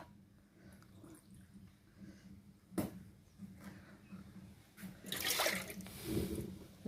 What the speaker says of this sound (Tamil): 100 கிராம் தண்ணி ஊற்றணும்.